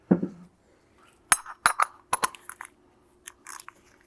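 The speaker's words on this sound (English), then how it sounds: "Now with that, we can take our oil filter housing removal wrench." Metal tool clinks as an oil filter housing removal wrench is handled during an oil change on a Volvo XC90, a few sharp, close taps and rattles in quick succession after a brief soft noise.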